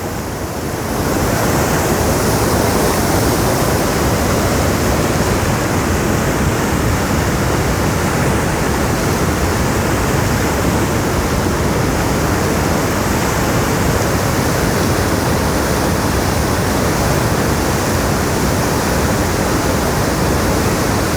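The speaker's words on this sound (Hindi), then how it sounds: "बहुत वेग हो रहा है, बहुत पानी ऐसा लग रहा है बढ़ता ही जा रहा है" Fast, swollen Himalayan river water roars at a mountain confluence, a loud, dense, unbroken rush that fills the whole clip with no pauses or talk.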